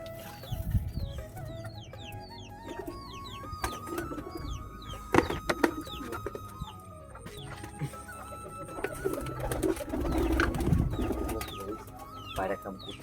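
Pigeons coo and flutter near a feeding dish of paddy and wheat, with grain pecking and clatter mixed in, moderately loud with no talk.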